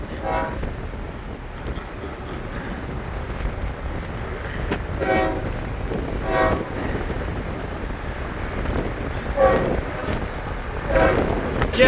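A train passes work crews near a bridge at Pompano Beach, rumbling steadily while its horn blasts in several separate loud bursts, with a voice talking faintly under it.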